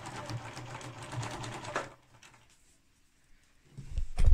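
A sewing machine stitches around three sides of a drawstring scrub wash bag, running steadily and close for almost two seconds before stopping, then a brief clatter of handling as it starts again.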